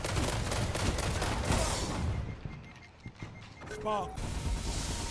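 Full-auto fire from a Suros DIS-47 in a video game, dense bursts of rapid shots crackling loudly in the first half, then easing into scattered impacts and game effects while running and gunning.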